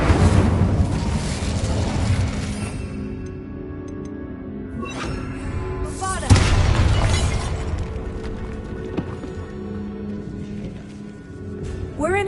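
The Incendio fire spell in Hogwarts Legacy erupts with a loud burst of flame and crackle, then a rumbling tail fades over a game soundscape of ambient rumble and later bursts.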